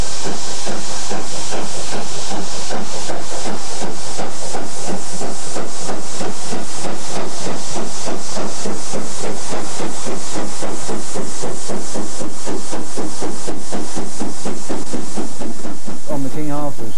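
An LSWR King Arthur class steam locomotive working hard with the regulator open: loud, rapid, evenly spaced exhaust beats over a constant steam hiss, running unbroken almost to the end.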